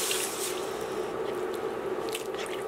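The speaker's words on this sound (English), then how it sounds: "to this I'm going to add in 2 cups of water" Two cups of water pour into a stirred flour mixture for a tuna casserole, a steady close sizzle-like splashing and squishing with faint drips.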